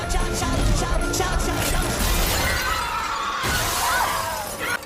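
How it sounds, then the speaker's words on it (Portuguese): Glass shatters and breaks apart beneath a dance floor in a Final Destination disaster scene, a loud, continuous crashing spray of fragments that fills the whole stretch before tapering off. "cai no abismo quando o vidro se rompe"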